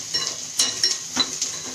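Onions sautéing in a pan toward dark brown sizzle steadily, with a few brief scraping stirs of a utensil cutting through the frying hiss close by.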